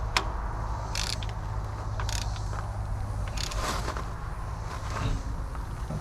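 A wrench ratchets as a bolt on a kei truck rocker arm is tightened, with sharp clicking bursts scattered over a steady low mechanical hum.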